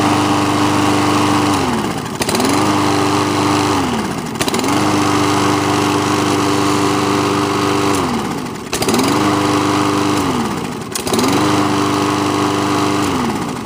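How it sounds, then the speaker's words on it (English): An MTD lawn mower with a Briggs and Stratton overhead valve engine runs steadily and loudly up close, its drone dipping briefly every couple of seconds before settling back to a constant hum. "That's how your Briggs and Stratton overhead valve engine should start"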